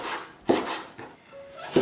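A knife chops pork belly into small dice on a board, a few distinct sharp chops spaced apart with a faint scraping between them, close and moderately loud.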